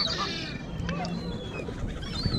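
Ducks walking on the pavement beside the Serpentine lake in Hyde Park, London, give faint honking calls under steady outdoor park ambience, with some distant voices in the background.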